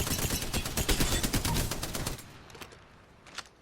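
Spitfire light machine gun in Apex Legends, fitted with its base 40-round magazine and no extended mag, fires a sustained rapid burst for about two seconds, then trails off into a few scattered shots against quieter background.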